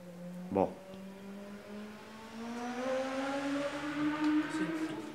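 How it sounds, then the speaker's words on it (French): A motorcycle passing at speed, its engine whine rising and shifting in pitch as it approaches and grows louder over several seconds, heard a little way off with a brief sound at the start. "C'est une moto."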